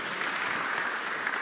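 A congregation claps at a live Kikuyu church service, a brief, steady, fairly soft burst of many hands clapping together.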